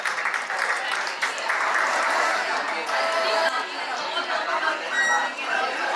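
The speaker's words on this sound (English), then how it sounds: "applause for Pramila ma'am" An alumni meet audience applauds a former teacher, the clapping moderately loud and sustained with a mix of chatter and voices running underneath.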